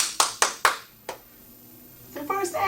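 Several sharp claps from an audience burst out in a quick cluster, then fade into a quieter stretch before voices and music rise at a live stage show.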